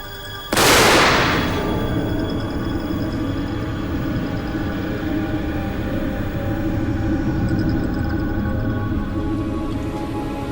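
A sudden loud dynamite test blast bursts out in front of a wall and building, then gives way to a long, rumbling roar that slowly settles.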